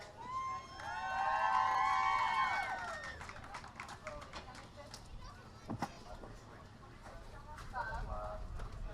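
A cheering section at a bass fishing tournament weigh-in lets out excited shouts and whoops, loud at first and then fading into scattered crowd voices and nearby talk.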